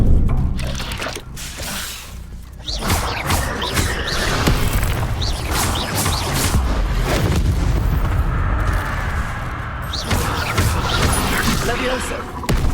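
Incendio fire spell cast in Hogwarts Legacy, with repeated whooshing bursts and booming flame blasts amid loud, dense combat noise.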